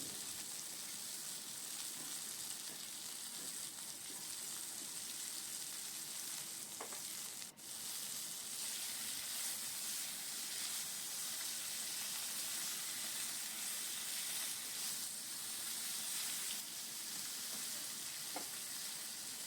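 Steady close sizzle of potatoes and green bananas frying in oil with salt, with a continuous crackling hiss broken by a few brief scraping stirs and one sharp click near the middle.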